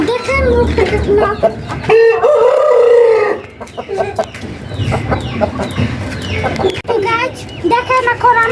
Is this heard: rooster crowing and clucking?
yes